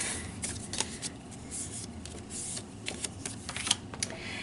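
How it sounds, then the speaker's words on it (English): Vanilla cardstock, pre-scored at 3.5 inches, being folded in half into a card base, giving close, quiet papery rustles and soft crisp creases. "So I'm just going to fold that over to make my card base."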